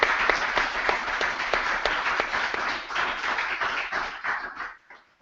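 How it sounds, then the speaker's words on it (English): Live audience applause after a talk on material intelligence, steady clapping from a modest crowd with distinct individual claps audible, tapering off and ending abruptly near the close. "Maybe we can thank him by giving him a round of applause."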